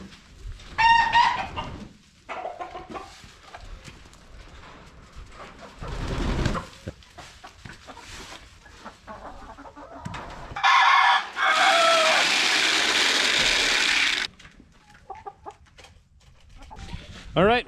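Hens cluck and a rooster crows in the evening as the chickens are put up, with a long loud burst of squawking and flapping midway; a person speaks briefly in between.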